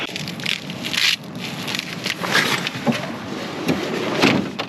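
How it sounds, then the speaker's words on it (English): Rain patters on a surface nearby on the cold, chilly Oregon coast, uneven hissing with brief louder splashes, no voices. "It's very, very chilly, and we're getting more rain."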